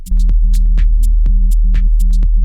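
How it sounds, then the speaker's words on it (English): A low, steady synthesized sine wave tone from Ableton Live plays loud and close, with a repeating pulsing pattern and brief clicky accents riding over it, no voices. "You want to start with a low sine wave"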